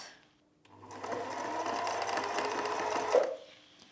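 Sewing machine stitching through a strap while the threads are held taut, a close, steady mechanical whirr of rapid needle strokes lasting a few seconds before stopping.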